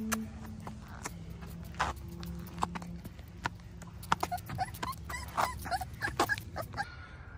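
A small puppy, the runt of a litter, gives soft whimpers and yips amid close scuffling and tapping sounds, fairly faint overall.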